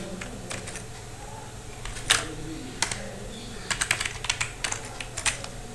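Keys clacking on a computer keyboard while code is typed, a scattering of quick close taps with a short burst of several keystrokes near the end, fairly quiet over a low background hum.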